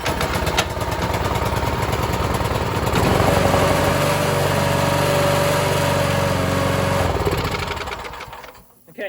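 A Craftsman 26-inch snow thrower engine catches and settles into a loud, steady near running drone, its pitch rising slightly midway, then cuts off near the end.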